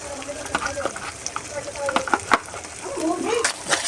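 Ground cumin and ginger spice paste fries in hot oil for a spicy chicken curry, crackling and sizzling in uneven bursts with popping spits, close up, while a voice talks over it.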